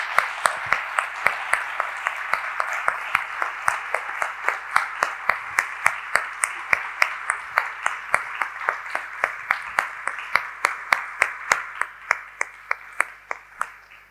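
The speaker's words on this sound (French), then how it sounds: "je voudrais quand même déjà qu'on les applaudisse tous les deux." Audience applause following a talk, steady and moderately near, with individual claps standing out sharply over the wash and gradually thinning toward the end; a faint voice stirs beneath.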